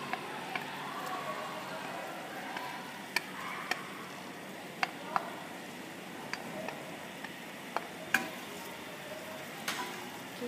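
Chopped onions soften in melted butter in a pan for a cream of mushroom soup, giving a soft, steady sizzle with occasional sharp clicks of a utensil against the pan, close but fairly quiet.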